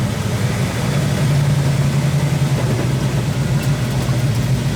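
A restored Ford GT40 engine running on its first drive, a loud, close, steady low rumble with a slightly pulsing throb and no clear revving, holding evenly from start to finish.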